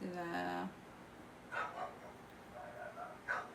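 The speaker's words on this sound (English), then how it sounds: "my neighbor's dogs are always barking" Neighbor's dogs barking outside through an open kitchen window, faint distant yips that come in scattered bursts, partly under a nearby voice speaking.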